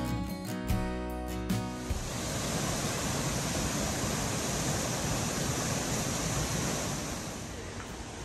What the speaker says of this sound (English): this waterfall is absolutely worth stopping and taking in.